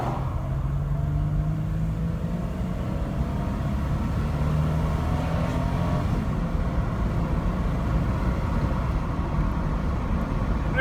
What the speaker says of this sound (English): I'll see if I can get you guys a 0 to 60 real fast